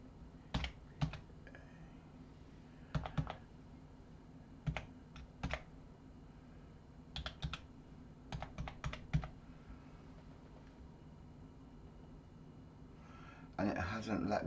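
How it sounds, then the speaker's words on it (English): Password keys tapped on a computer keyboard in short, quick bursts separated by pauses, close and fairly quiet, with a louder rustling shuffle at the very end. "let me type it in"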